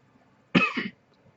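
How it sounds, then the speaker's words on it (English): A single person coughs once, a short, fairly close double-burst cough in an otherwise quiet moment. "I hate coughing."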